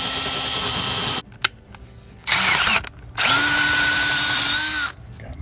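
A power drill bores a hole through the wall of a mobile home, running in three loud bursts with short pauses between, the last burst longest and steady.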